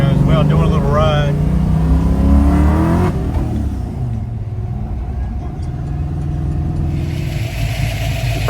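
A small 'poodle pecker' engine drives a vehicle on a short ride, its loud, steady drone shifting in pitch as the throttle changes, with a voice briefly audible at the start.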